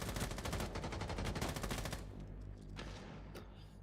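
Rapid automatic gunfire in Rainbow Six Siege rattles out in a dense, close, steady burst for about two seconds, then trails off into a few scattered shots and echoing tail.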